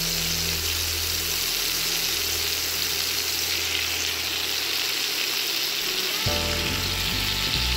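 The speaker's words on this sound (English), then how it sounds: "I'm gonna go ahead and place my fish in there." Cod fillet searing in a hot pan, a loud steady sizzle filling the whole stretch, with a fresh burst of crackling near the end as it settles into the oil.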